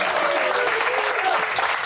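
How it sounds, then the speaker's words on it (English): Steady, dense applause from an audience at a Fairmount Avenue ribbon cutting for a homeownership project, sustained and fairly loud throughout with no break. "let's give her a nice round of applause"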